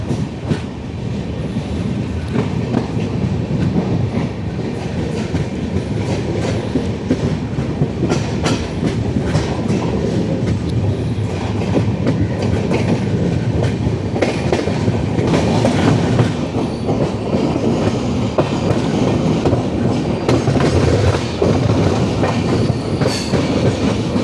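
The Venad Express pulls out of Tripunithura station with a loud, continuous rumble of rolling carriages and rhythmic wheel clatter over rail joints, sustained with no talking.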